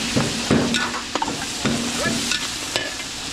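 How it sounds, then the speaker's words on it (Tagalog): Garlic and onion sautéing in a pan during a provincial fiesta cook-up in Pampanga, a close sizzling bed punctuated by several spoon scrapes and knocks against the pan, with no speech. "papupulayin lang natin bawang sibuyas"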